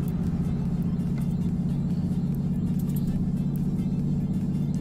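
Solaris Urbino city bus in the Euro Truck Simulator 2 video game, a steady loud low engine drone as it accelerates, with faint talk.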